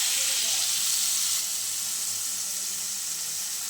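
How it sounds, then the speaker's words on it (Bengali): Small splash of water hitting a hot pan of frying spices, a bright rushing sizzle that surges at first and then settles into a steadier, slightly softer hiss. "একদম অল্প জল বন্ধুরা, জল দিয়ে দিলাম।"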